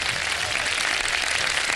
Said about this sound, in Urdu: تالیاں بجا دیں